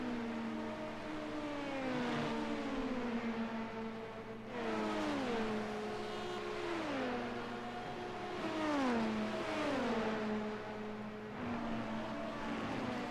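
Several race car engines in iRacing, an IMSA fixed-setup race, drone steadily with rising and falling pitch sweeps as they rev and shift, a close engine holding under others running nearby, with no talk.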